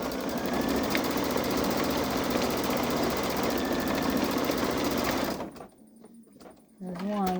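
A Babylock Solaris embroidery machine stitches out eyelashes, a steady fast mechanical whirring chatter that runs for about five seconds and then stops. A voice speaks at the end.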